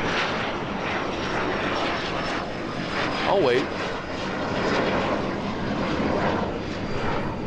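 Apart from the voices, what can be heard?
jet aircraft flying overhead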